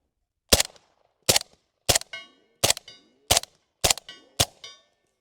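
Seven sharp gunshots from a SIG MCX rifle firing slugs, evenly spaced about half a second apart, loud and close, each with a short metallic ringing tail and no talk.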